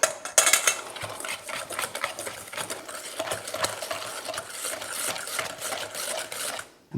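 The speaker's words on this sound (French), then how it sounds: "On va incorporer notre sucre pour crémer avec notre beurre." Butter and sugar being creamed in a bowl, heard as a steady, busy whirring and scraping churn that runs the full length at moderate volume and stops abruptly at the end, with no talking.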